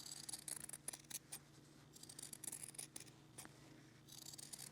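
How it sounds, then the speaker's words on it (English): Scissors snipping away fabric seam allowance close to the stitching on a fur appliqué, a rapid series of short crisp cuts, quiet and close, with no talking. "The next step is going to be to cut away your seam allowance."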